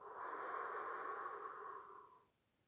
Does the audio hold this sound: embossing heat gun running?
no